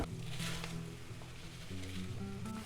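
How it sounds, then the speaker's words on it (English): Rice toasting in a pan with onion and garlic gives a soft, steady sizzle close by, faint and continuous with light stirring, no voices. "we'll toast the rice together with the onion and garlic"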